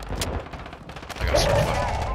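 Gunfire bursts and rattling shots from Call of Duty: Modern Warfare II, fairly loud and dense, swelling into a heavier barrage midway, with a player's voice partly mixed in.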